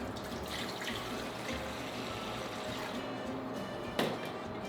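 A steady stream of cold water runs into a cooking pot to start a chicken brine, a constant close splashing rush with no talking.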